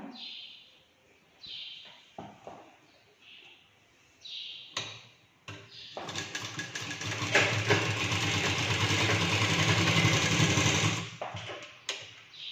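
A sewing machine stitches a blouse in a steady whirring run of about five seconds, preceded by brief clicks and short bursts, with birds chirping faintly in the background.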